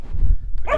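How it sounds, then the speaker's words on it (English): A dog barks outdoors on a windy day at a flatbed truck stop, a brief sharp bark arriving near the end after low rumbling wind noise. "It's starting to get windy out here now, so Bella's barking"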